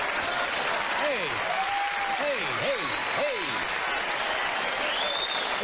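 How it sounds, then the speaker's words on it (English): Studio audience on a late-night talk show booing, a broad wash of crowd noise with several sliding, wavering boos rising and falling, and a man briefly calling out over it. "Oh, you're booing."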